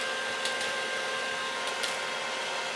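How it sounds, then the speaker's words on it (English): A freeze dryer hums steadily in the background of a home kitchen, a faint constant mechanical drone with a couple of brief soft clicks over it. "Sorry for the humming of the freeze dryer in the background."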